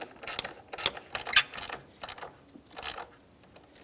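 A bolt on a Ford Expedition 5.4L V8 ignition coil is tightened by hand, a series of quick close ratcheting clicks in short bursts with brief pauses between.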